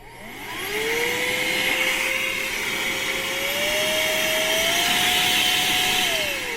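A cordless electric air duster blows through a small nozzle with a loud steady whoosh. Its motor whine rises in pitch as it spins up and stays high and close throughout.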